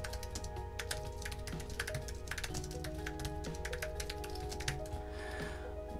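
Rapid, steady typing on an Apple Space Gray Magic Keyboard with keypad, its low-travel keys producing dense, close clicks and taps that run continuously without talk.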